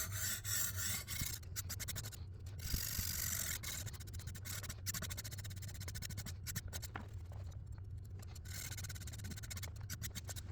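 A Zwilling Kramer Damascus chef's knife is stroked along a PDTools CBN sharpening stone, giving repeated close, gritty rubbing and scraping passes in a steady rhythm with no voices.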